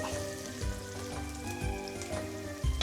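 Onions and basil sizzle in extra virgin olive oil for a Napoli sauce, a constant crackling fry with a few soft stirring knocks in the pan.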